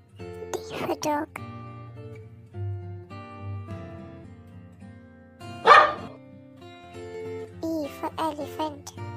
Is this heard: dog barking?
yes